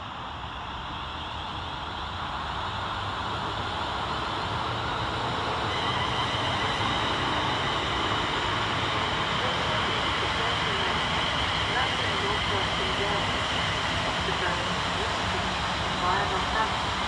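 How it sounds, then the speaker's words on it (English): London Northwestern Railway Class 350 electric units, 350-263 and 350-101, pull out of Milton Keynes Central station. A steady, broad rushing rumble swells after about two seconds and then holds loud and even to the end. "Next out for departure on the far side is 350-263 and 350-101."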